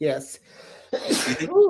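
A single sharp sneeze bursts out in the middle of casual conversation between people chatting, followed by more talk.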